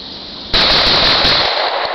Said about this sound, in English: I'm gonna try to bump fire the Mossberg.